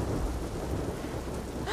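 Heavy rain with rumbling thunder during a dark outdoor scene in The Last of Us Part II, a dense steady downpour with a low roll of thunder throughout, no talk.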